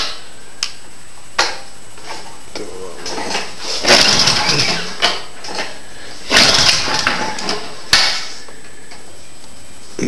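Troy-Bilt snow blower engine being cranked, several short bursts of sputtering engine noise separated by sharp clicks and pauses, near and fairly loud.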